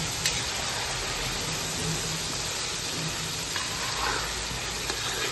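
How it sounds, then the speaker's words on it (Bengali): Potatoes fry in oil with turmeric powder while being stirred, giving a steady, close sizzle and hiss that runs unbroken throughout with no talk. "দিয়ে একটু ভালো করে নাড়িয়ে নিচ্ছি যাতে ভাজাটা আরো ভালো হয়।"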